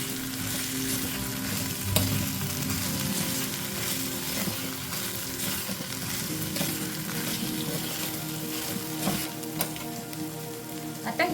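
Dried fish (sukat) sizzles steadily while being stirred in a frying pan, a continuous crackling fry with faint scraping of the spoon against the pan.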